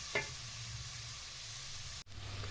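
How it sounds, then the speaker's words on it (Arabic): Chopped onion sautéing in a pot, a close, steady sizzle with a brief stirring scrape and a short break near the end. "اشوح البصله بتاعتي لغايه بس ما اللون البصله تدبل بس"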